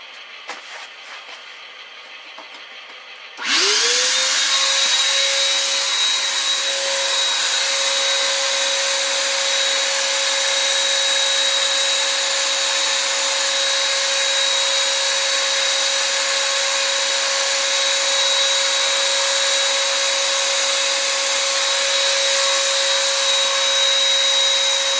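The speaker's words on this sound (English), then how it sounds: "let me vacuum up again." A vacuum cleaner starts abruptly after a few seconds of quiet room noise, spinning up and holding a loud, steady whine and hiss throughout while cleaning up after a panel installation.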